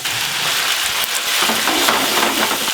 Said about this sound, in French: Vin blanc, on déglace.